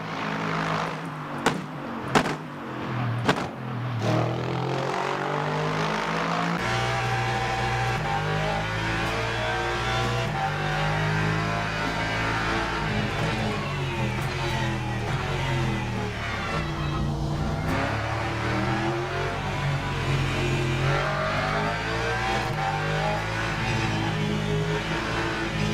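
Race car in Le Mans Ultimate video game revving hard, with sharp blips while downshifting at first, then a sustained loud engine roar with shifting pitch, no voices.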